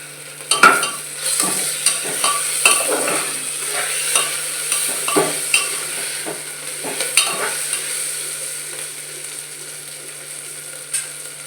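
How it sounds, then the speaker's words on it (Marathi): Ginger-garlic paste being stirred into rajma masala rice frying in a pan: a steady sizzle with repeated spoon scrapes and taps against the vessel, close and clear, with no talking. "आलं लसणाची पेस्ट टाकून घ्यायची मिक्स करून घ्यायचं"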